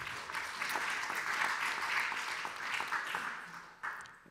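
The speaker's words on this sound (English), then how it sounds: "Thank you, Abdul, and a round of applause." An audience at a panel discussion breaks into applause: a dense, steady wash of many hands clapping that tapers off slightly at the end.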